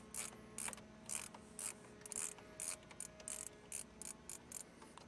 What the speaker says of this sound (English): now I'm using a T15 Torx bit. And like you said, we're just going to take those screws out real quick.